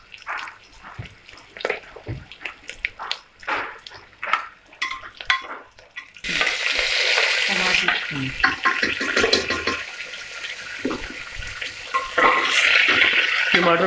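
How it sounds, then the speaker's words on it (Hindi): Frying masala with tomatoes for a matar biryani is stirred gently in a pan, a steady sizzle and scraping stir filling the second half, after a stretch of talk with faint kitchen clatter. "अब इसको बहुत हल्के हल्के चलाते रहें जिससे जल नहीं जाए।"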